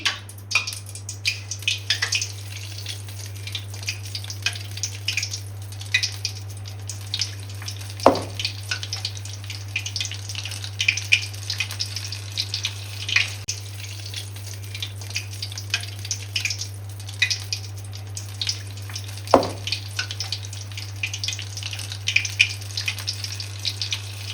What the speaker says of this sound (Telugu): మిర్చీలు మంచి కలర్ వచ్చేంత వరకు ఫ్రై చేయండి